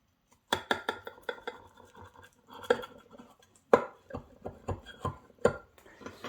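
A knife slicing through a baked Italian-style galette with gorgonzola, giving a run of scraping, clinking cuts against the dish, close and crisp, with no talk.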